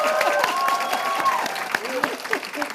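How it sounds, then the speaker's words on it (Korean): Studio audience applause on a Korean talk show about rice cakes, a steady wash of clapping with a few cheers and voices mixed in, fairly loud and continuous for a few seconds. "오늘 박수 한번 주세요"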